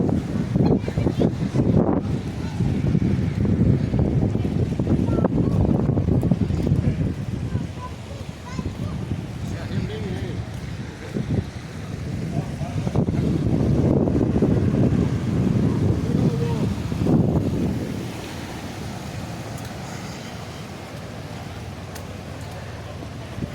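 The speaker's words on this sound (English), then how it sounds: "Starting to get windy." Gusty wind buffets the microphone outdoors near Gatlinburg in the Smoky Mountains during a high wind advisory, a loud, low roaring rumble that surges twice and then eases to a steadier hiss.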